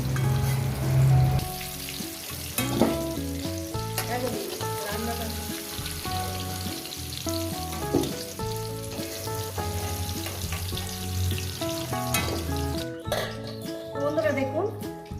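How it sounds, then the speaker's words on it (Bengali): Continuous sizzling of potatoes and pumpkin frying in oil, under a person talking and background music. "কত সুন্দর করে আমি ভেজে নিয়েছি আলু আর কুমড়োটাকে"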